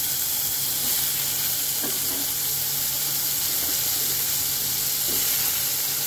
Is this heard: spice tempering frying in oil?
yes